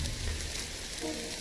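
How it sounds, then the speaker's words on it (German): Steady rain hisses in the video game Jagged Alliance 3, an even wash of falling water that keeps up for the whole short stretch without a break. "Und ihr hört's, es regnet."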